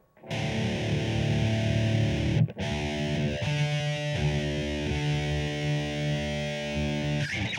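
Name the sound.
electric guitar riff in drop D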